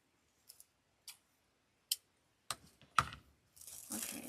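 Scissors snip frayed ribbon off a storm door wreath, a few separate sharp clips spaced apart, then a louder cut and a rustle of material at the end, close and otherwise quiet.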